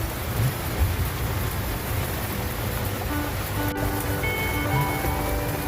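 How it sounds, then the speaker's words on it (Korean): Heavy rain pours onto a rooftop tent on a Staria van, a dense, loud, continuous patter close overhead, with a faint tone joining partway through. "지금 빗소리가 엄청 크게 들리네요."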